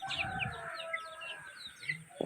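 Pet chickens in a backyard coop, a few birds giving soft, overlapping clucks and chirps nearby in a quiet setting.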